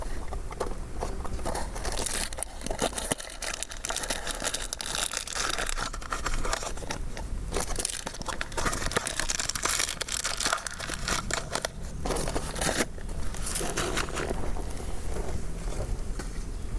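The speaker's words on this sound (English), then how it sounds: "so there is how you get a campfire started" Freshly lit campfire crackling and popping in a dense, irregular stream of snaps and hisses, close and fairly quiet, with no voices.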